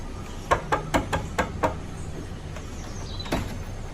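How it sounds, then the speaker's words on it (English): Knocking on the wooden door of a grandmother's house: six quick, evenly spaced raps fairly close by, then a single louder knock a moment later, with no talking. "Then, Bawang knocked on the door of the house."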